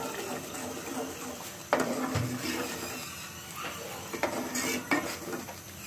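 A spoon stirs spiced masala mixed with yogurt in a cooking pot for shaljam chicken, with metallic clinks and scrapes against the pot at an irregular pace over a soft background hiss.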